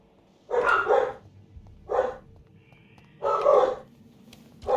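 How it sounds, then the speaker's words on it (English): Dogs barking in the background during a Halloween evening, in three separate bursts of several barks each, moderately loud and with no talk over them. "I got dogs in the background."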